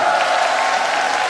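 Steady audience applause from a crowd at a summer talk event, continuous dense clapping filling the moment without a break.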